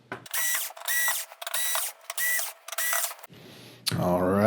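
A screwdriver backs screws out of the main board on an LG 55UX340C-UF TV, making repeated close ratcheting whirs in short regular bursts, followed by a brief rustle and a clatter.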